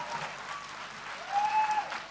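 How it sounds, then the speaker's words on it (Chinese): An audience in Malaysia applauds a four-year-old drummer at a music event, a short burst of steady clapping that swells slightly near the end. "再一次呢，给他掌声鼓励"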